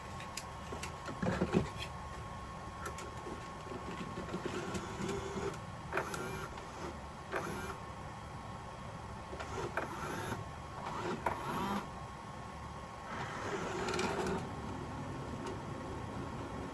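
A Bambu Lab AMS unit loads a filament spool. Quiet whirring motor runs and mechanical clicks repeat in short bursts over a low steady hum, heard up close with no talking.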